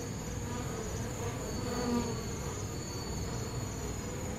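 Western honeybees buzzing as a dense ball forms against hornets, a steady continuous hum with no speech over it.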